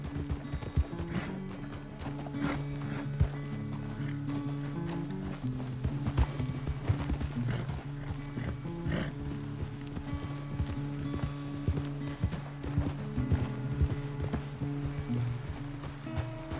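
Horse hooves clip-clop at a steady gallop in the video game Red Dead Redemption 2. The rhythmic hoofbeats run throughout, close and clear, over a tonal musical background.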